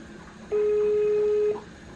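A phone line plays a single steady ringback tone lasting about one second while an unanswered call waits, set against a quiet, faintly hissing line.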